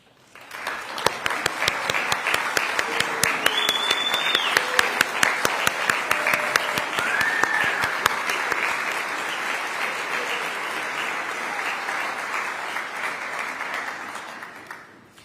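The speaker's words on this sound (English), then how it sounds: "ask them to stand so we can celebrate all of you with a round of applause" An audience at a Parks, Recreation and Cultural Resources Fletcher Awards ceremony gives a long, steady round of applause for standing nominees and recipients, dense and loud throughout before tapering at the end.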